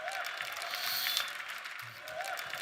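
Applause from an audience, a steady broadband patter of many hands clapping at moderate loudness throughout, with no clear voices.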